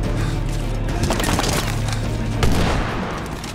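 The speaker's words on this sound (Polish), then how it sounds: "Poszedł granat." A grenade blast and gunfire in the Medal of Honor: Warfighter game come as a dense, loud rumble of battle. Crackling shots are layered over it, with a heavier boom swelling near the end.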